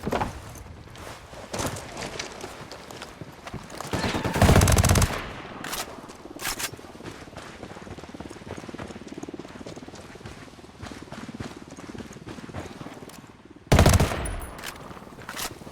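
Automatic gunfire in Tom Clancy's Ghost Recon Wildlands, with two loud, dense bursts, one of about a second and one shorter, set against a steady murmur of game ambience and scattered quieter shots.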